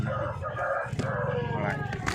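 A rooster crows at a busy village livestock market selling goats, chickens and pigeons. The crowing sits in the middle distance over steady crowd noise and background chatter.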